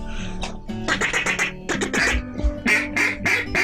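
Ducks quacking repeatedly on an Arkansas duck hunt, a run of raspy calls in quick bursts, fairly close and loud, continuing for several seconds with no talk.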